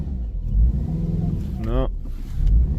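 A Subaru car engine idling and revving as it struggles to back up, a low rumbling drone with one rising-falling rev surge near the middle, close by, with someone talking over it.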